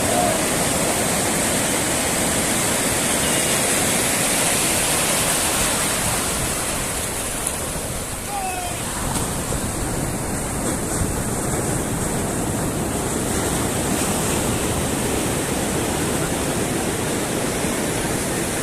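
Sea surf at Digha beach rolls on as a steady, loud, broadband wash for the whole stretch, with wind buffeting the microphone and no talking over it.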